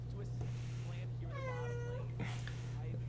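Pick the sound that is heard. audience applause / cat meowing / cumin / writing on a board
cat meowing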